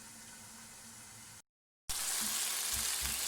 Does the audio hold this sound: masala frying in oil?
yes